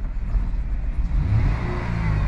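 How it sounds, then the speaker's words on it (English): A Chrysler 3.6 engine idling after a restart, having been towed in after dying on the highway with a suspected flooding fault; a steady, fairly loud low rumble with slight unevenness and no talk. "Beginning engine restarting sequence now."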